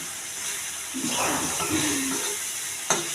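Katla fish oil frying and being stirred in a pan, a soft steady hiss of hot oil with a brief scraping swell in the middle and a light knock near the end.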